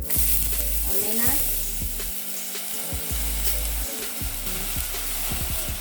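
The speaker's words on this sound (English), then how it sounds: "So you just keep toasting and turning them around" Omena, small fish, dry-toasting without oil in a heated sufuria pot, crackling sizzle with repeated scraping and turning strokes against the metal, close and steady.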